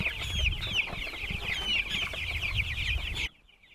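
Broiler chickens on pasture cluck and chatter continuously in a busy, overlapping flock, close and moderately loud over soft outdoor noise, then the sound cuts off abruptly near the end.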